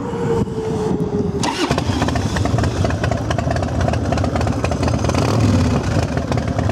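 A carbureted 2002 Harley-Davidson Electra Glide Classic FLHTC with the choke pulled starts: a short cranking whine, then the engine catches and settles into a loud, close, lumpy idle that holds steady.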